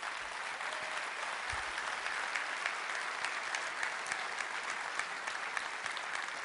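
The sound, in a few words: audience applause at a conference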